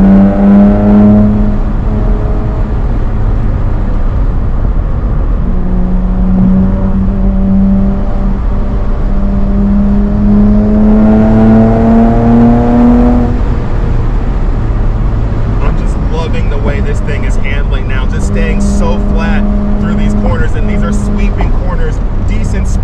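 A Nissan R34 GT-R on coilover suspension runs along a high-speed canyon road, its engine droning steadily and rising in pitch through the corners, with a brief lift-off before it pulls again and someone talking over it.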